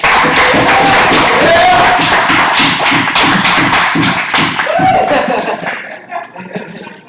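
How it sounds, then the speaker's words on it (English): A crowd claps together in steady applause, loud and sustained, fading out toward the end with a few scattered claps. "a round of applause"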